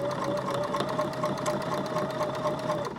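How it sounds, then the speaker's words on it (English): A sewing machine stitches fabric at a steady, fast rhythmic chatter with a constant motor whine, running continuously and close by for a few seconds. "So I'm going to sew all the way down."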